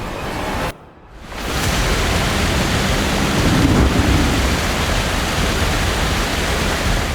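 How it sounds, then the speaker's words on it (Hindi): A mountain waterfall below Manimahesh peak in Himachal Pradesh makes a loud, close, continuous roar of falling water that fills the whole clip, with a brief dip near the start. "आगे एक झरना दिखा।"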